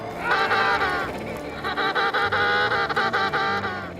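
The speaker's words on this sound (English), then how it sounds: "Just listen to the sound of a mother that lost its chicks." An emperor penguin mother who has lost her chicks calls loudly and close by, a long harsh braying cry that breaks into a rapid pulsing trumpet, with no talk.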